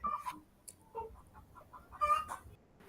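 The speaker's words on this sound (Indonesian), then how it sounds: "Itu kakak ada ayam yang berbunyi, itu saya punya ayam." A hen about to lay an egg clucks in short bursts, fairly close and moderately loud, with quiet pauses between calls and no one speaking.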